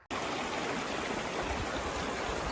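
A cold mountain stream on a hike to Middle Sister, flowing water with a steady, close rushing and splashing as water is collected, with no voices.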